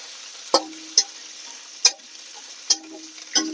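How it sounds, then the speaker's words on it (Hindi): Peas being mixed in a frying pan in a village kitchen, with five sharp spatula knocks and scrapes spaced about a second apart over a faint low sizzle, close and clear with no voices. "मटर को हम डाल दिए और इसको मिक्स करते हैं।"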